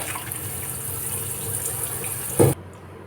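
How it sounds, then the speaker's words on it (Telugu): Cold water runs steadily from a tap over drained noodles and splashes for a few seconds, swelling briefly louder before cutting off abruptly. "ఇలా వడగట్టుకునేటప్పుడు ఇది చల్లటి నీళ్ళు వేయాలండి"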